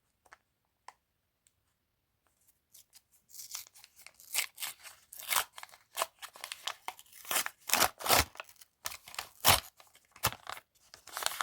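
Paper crinkling and tearing, starting with a few isolated clicks, then building into dense rustling and ripping as a Paper Lane surprise package is opened up close.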